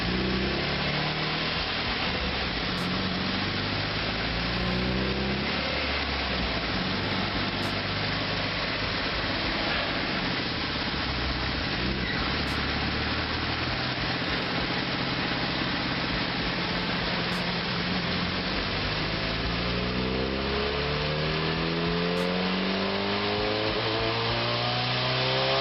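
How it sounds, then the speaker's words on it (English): Mazda MX-3 making about 250 horsepower, its engine revving hard on a dyno, rising and falling through repeated pulls for nearly half a minute, loud and close with no voices. "it was pretty much of my car on the dyno, and it made about 250 horsepower"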